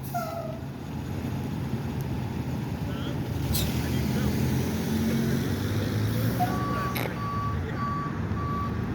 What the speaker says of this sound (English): Here comes the first tow truck.